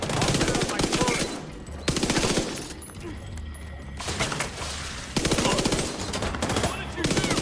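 Automatic weapon fire in The Division 2 during a True Sons stronghold assault at the Capitol Building, loud sustained bursts of rapid gunshots separated by a quieter lull, with other combat noise.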